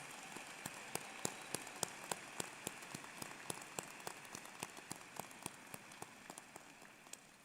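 Clapping from a commencement audience for student award winners, a steady patter of many hands at moderate distance, fairly quiet and with no talk over it.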